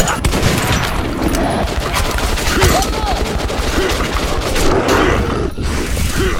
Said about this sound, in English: Shooting at rats.